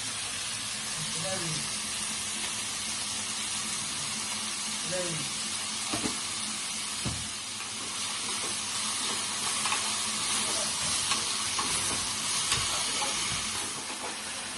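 Bottle gourd frying with turmeric and salt in a pan, a dense continuous sizzle and steamy hiss with occasional spatula scrapes and knocks as it is stirred, a voice faintly underneath.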